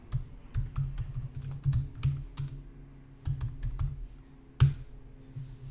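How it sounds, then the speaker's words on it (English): Close-up typing of CSS code on a computer keyboard, a steady patter of quick key clicks in short bursts with a few brief pauses and one heavier keystroke near the end. "As soon as we finish typing in the code"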